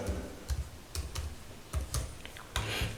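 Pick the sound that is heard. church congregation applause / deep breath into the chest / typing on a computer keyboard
typing on a computer keyboard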